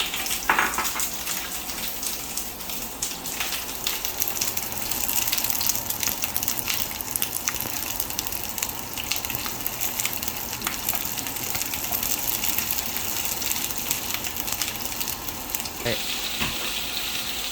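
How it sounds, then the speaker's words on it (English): Green pepper pieces shallow-frying in hot oil, giving a steady, dense sizzle that runs unbroken throughout with a few faint clinks from the pan. "Now I'm going to add the green pepper to the oil."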